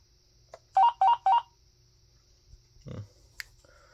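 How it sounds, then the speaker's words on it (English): An AT&T 5.8 GHz cordless phone gives out its handset locator paging tone as three quick, identical beeps, followed by a few faint clicks and a low bump from the handset. "you would press the handset locator button. And it would say paging on the handset screen"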